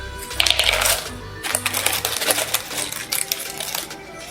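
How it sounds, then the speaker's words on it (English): Dried baking beans rattle and clatter as parchment paper lifts them out of baked pumpkin tartlet shells, a quick run of close, sharp clicking and pouring with a brief pause midway. "go ahead and remove the beans with the parchment paper"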